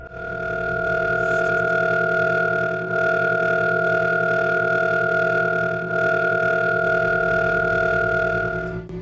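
Sonification of the Cat's Eye Nebula: a steady electronic drone of sustained, layered tones with a low rumble beneath, holding loud and unbroken throughout with only slight dips in level.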